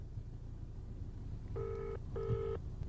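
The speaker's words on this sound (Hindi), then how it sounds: "हमने एफकॉन्स की ओर से जारी एक और हेल्पलाइन नंबर पर फोन किया" Telephone call placed to a helpline, with two long electronic ringback tones sounding one after another over a steady low hum, each lasting about half a second to a second.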